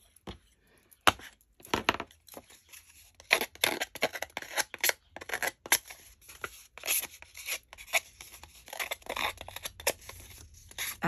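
Small scissors snipping through fabric, a run of quick irregular cuts with light rustling between them, close by and fairly quiet.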